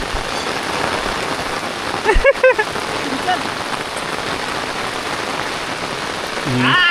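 Heavy monsoon rain pours steadily on a surface in a Konkan forest, a dense, loud hiss, with brief nearby clatters and voices partly heard beneath the downpour.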